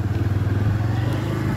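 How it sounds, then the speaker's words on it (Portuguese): A motorcycle engine idles or runs at low revs close by, a steady throbbing drone with no talk over it. "Acabei de subir na moto."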